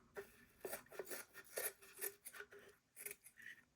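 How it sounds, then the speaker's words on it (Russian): Scissors snip and trim a handmade Christmas tree lantern ornament, giving quiet, close, irregular cuts with small scraping rasps between them. "Теперь я вот так под вершину все подрезаю аккуратно."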